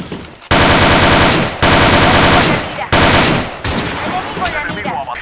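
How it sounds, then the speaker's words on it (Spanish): Rapid automatic gunfire in the online shooter Operation 7 comes in loud, dense bursts, cutting off briefly twice before resuming, then becoming choppier and mixed with scattered battle noise toward the end. "me disparan de todo"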